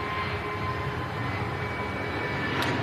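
An EasyJet A320neo jet airliner rolls on the runway at Manchester Airport, its engines giving a steady, loud broadband roar that holds level throughout with no talk.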